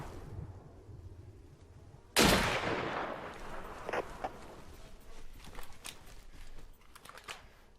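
Gunfire in the survival shooter Deadside: after a quiet stretch, one loud, sharp shot rings out and trails into echoes, followed by several fainter scattered shots and clicks.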